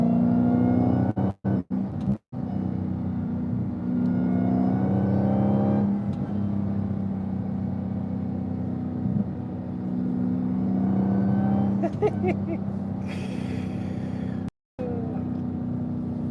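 A supercharged 2022 Dodge Challenger SRT Jailbreak runs at high RPM, giving a loud, steady engine drone with a layered whine that holds close for the whole stretch, briefly broken by a few short dropouts.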